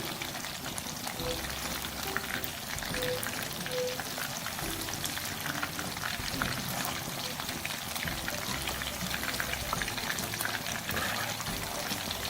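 Masala fried chicken pieces frying in oil, a dense, even crackling sizzle like steady rain that holds throughout at moderate level, with a faint tonal hum underneath and no speech.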